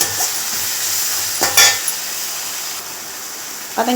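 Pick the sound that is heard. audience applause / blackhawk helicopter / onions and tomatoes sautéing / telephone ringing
onions and tomatoes sautéing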